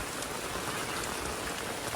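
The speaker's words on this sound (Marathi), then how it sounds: "खूप मजा पाऊस बघू शकता तुम्ही भरभरून पाऊस आहे पाऊस बघा" Heavy rain pours steadily over a village during a cricket game, a dense, unbroken hiss of drops hitting surfaces close by, with no voices.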